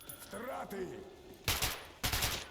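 Gunfire in the video game Metro Last Light comes as two sharp, loud bursts in the second half, after a stretch of a murmured voice.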